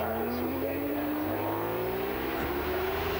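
Ducati superbike racing at Cadwell Park in a Golden Era Superbikes race, a faint distant engine note rising steadily in pitch as the bike accelerates, with other engines droning underneath.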